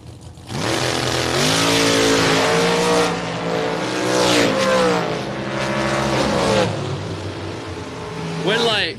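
A dragster roars down a drag strip at a fall bracket race, a loud engine howl climbing and shifting pitch for several seconds, with a second burst near the end and an announcer's voice talking over it.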